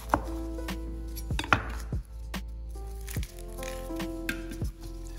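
A knife chopping an onion on a cutting board, a series of crisp, close knocks at an irregular pace, separated by short pauses, with a quiet kitchen background and no talking.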